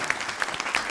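A studio audience gives a brief burst of clapping for Shyam Lal's doll dance puppet performance on a comedy stage show, dense and lively but short.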